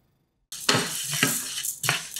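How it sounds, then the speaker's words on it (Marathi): Whole wheat grains being dry-roasted on a hot griddle over medium heat give sharp, close scraping and rattling strokes that begin after a half-second of silence and repeat in uneven bursts. "आता हे गहू गरम तव्यामध्ये घालायचे आणि मध्यम आचेवर एकसारखे खमंग असे भाजून घ्यायचे."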